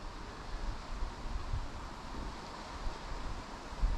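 Wind gusts across an outdoor fishing spot, a fairly quiet broadband rush buffeting the microphone, rising and falling steadily for a few seconds with no voices.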